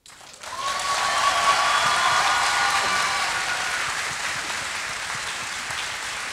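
Audience applause at a live drawing battle during the FIBD 2018 comics festival, a dense roar of clapping that swells quickly, holds steady and thins slightly toward the end, with no talking.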